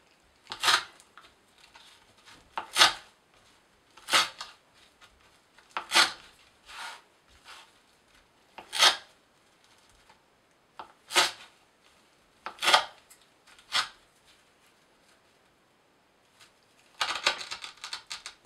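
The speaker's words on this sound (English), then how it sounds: "So I'm going to go ahead and finish slicing this rope." A Spyderco Manix 2 knife with a 154CM blade slicing through rope, a series of about a dozen crisp, evenly spaced cuts, each a short fibrous rasp, ending in a longer rough burst.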